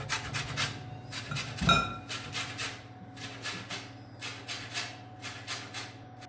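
An orange is zested on a grater in quick rhythmic rasping strokes, close and fairly soft, in short bursts with a brief clatter partway through.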